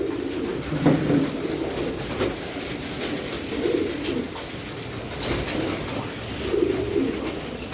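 Young racing pigeons from a 2023 hatch coo in a loft, several soft, throaty rolling calls rising and fading every few seconds, close and steady with no talking.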